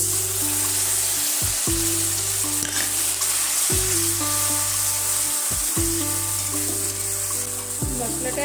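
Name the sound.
tomatoes frying in a pan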